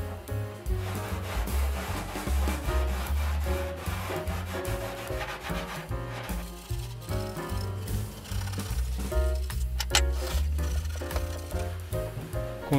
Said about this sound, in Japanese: この霧のとこだけはこのスポンジヤスリで磨くわ。